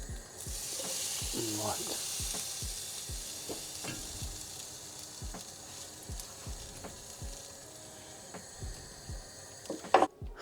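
Food frying in a pan, a steady hiss with repeated spatula scrapes and taps as it is turned over, ending in a louder clatter; someone briefly speaks a single word over it.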